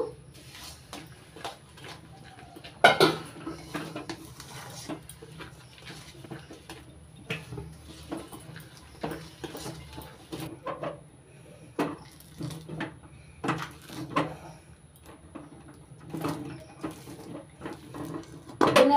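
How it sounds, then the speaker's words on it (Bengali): Fried sesame seeds stirred into jaggery in a pan with a spoon, giving soft, irregular scraping and patter, occasional louder knocks against the metal, and quiet gaps in between. "ভেজে নেওয়া তিলগুলো দিয়ে দিচ্ছি, আর এক হাত দিয়ে নাড়তে থাকছি।"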